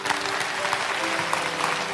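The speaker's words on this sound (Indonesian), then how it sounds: "kasih tepuk tangan untuk Tuhan Yesus" Steady applause fills a church service, a dense, continuous wash of clapping from a congregation praising Jesus, with a faint murmur of crowd voices beneath.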